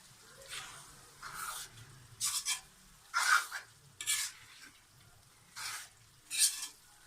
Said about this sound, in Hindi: हाई फ्लेम पर इसको अच्छी तरह से हमने भून लिया